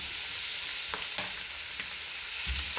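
Chicken liver sizzling and frying steadily in a hot pan as chili padi is added, with a few soft stirring scrapes over the continuous crackle.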